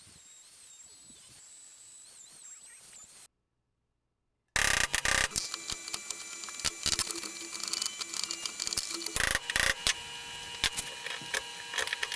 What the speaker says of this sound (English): take a router and route out these sections